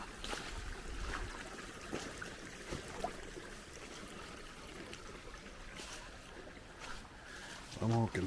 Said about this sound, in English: Here we've got a small creek to work our way across.